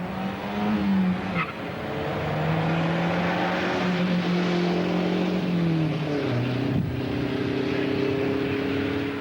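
A Volvo and a Dodge launch side by side in a drag race, engines roaring and climbing through gears with steady rising pitch sweeps and one audible shift, a continuous loud drone without any talk.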